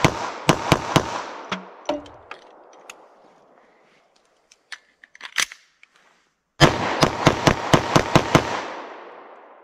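A 9mm pistol fires rapid shots at a target outdoors, loud sharp cracks in two quick strings of about half a dozen each, separated by a pause with faint clicks and handling noises.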